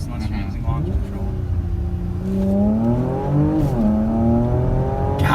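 A Porsche Macan GTS accelerates hard, its engine note climbing steadily and then dropping sharply at quick gear shifts before rising again, heard from inside the cabin with voices talking over it.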